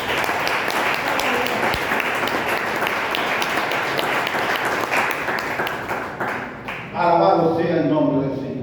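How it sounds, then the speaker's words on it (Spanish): A church congregation claps in praise to the Lord during a Spanish-language service, a steady, close wash of applause, followed near the end by a voice speaking over music or organ. "Bríndele un aplauso al Señor"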